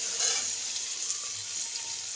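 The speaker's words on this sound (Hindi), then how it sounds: "मसाले भी अच्छी फ्राई हो गई है" Spices and green peas for a samosa filling fry in oil with a steady, close hiss that holds evenly for a couple of seconds, with no voices.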